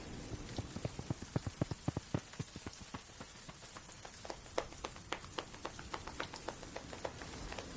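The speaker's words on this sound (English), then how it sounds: "We sit up, and it begins to rain" Rain pattering on a hard surface, dense irregular drops ticking steadily and fairly close, quiet overall, with no voices.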